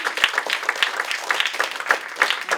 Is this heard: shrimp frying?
no